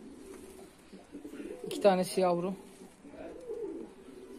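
Pigeons coo in a short burst of throaty, warbling calls from a home flock joined by four stray birds, some of them young, mixed breeds, with a person talking over the cooing.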